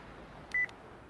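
Single short electronic beep as a phone call button is pressed in the video game Spirit Hunter NG, a brief tone over a quiet ambient bed.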